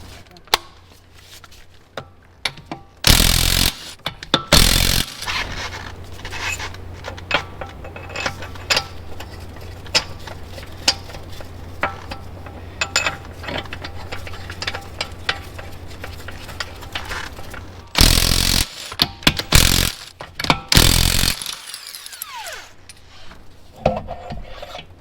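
Tools working to remove a wheel from a Ferrari 458 during a brake pad change, with scraping, rubbing and clicking mechanical noises close by and several loud bursts of tool noise near the start and later on.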